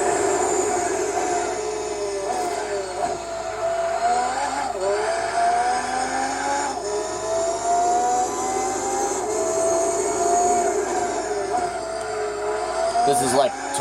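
A Toyota Supra race car in Gran Turismo 4 roars steadily at high revs through the whole stretch, its engine note rising and falling with gear changes, with faint tire squeal and speech mixed in during an endurance race.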